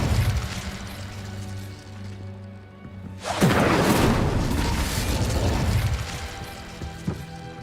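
A fire spell, Incendio, is cast in the Hogwarts Legacy game, giving a sudden loud whooshing burst of flame that roars on for several seconds over the game's musical score, then fades, with a brief thump near the end.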